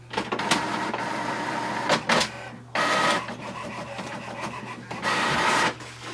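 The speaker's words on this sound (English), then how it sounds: "So we can see the test page is printed" An HP Envy 5000 inkjet printer prints a test page, giving close, loud bursts of mechanical whirring and rasping feed noise broken by short clicks and pauses.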